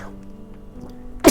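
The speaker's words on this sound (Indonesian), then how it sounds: "sorry guys, bersin ya." A single sharp sneeze bursts out near the end, loud and close, after a stretch of faint low hum.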